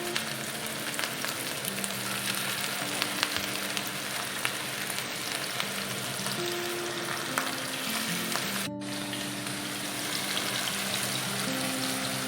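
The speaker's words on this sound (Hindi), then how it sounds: "अब हम यहाँ से कबाब उठाएंगे और आराम से तवे के ऊपर डालते जाएंगे" Minced-meat keema kebabs frying in hot oil on a tawa, a loud continuous close sizzle with crackling pops that holds steady throughout, no voices.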